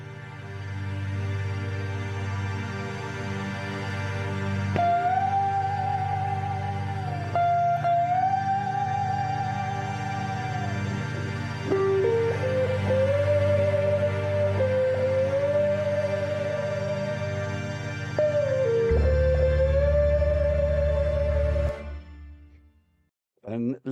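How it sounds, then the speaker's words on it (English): A Stratocaster electric guitar recorded direct into an audio interface plays sustained lead notes with bends and slides over a steady low synth pad, loud and close, fading out at the end. "what you heard now is being recorded from the guitar straight direct into my sound interface"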